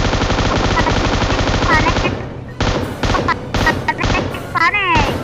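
Loud, rapid automatic gunfire from the mobile battle-royale game PUBG Mobile rattles in long sustained bursts. Later come shorter volleys with brief gaps, and sharp impacts and game sounds are layered on top.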